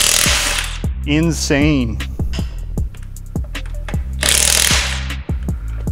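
An impact wrench breaking lug nuts free on a Cadillac ATS during suspension work, loud, close hammering bursts with rapid rattling impacts and a rising whine, separated by short pauses, with a voice speaking briefly between bursts.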